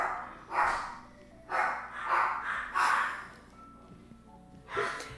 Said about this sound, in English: Walter's barking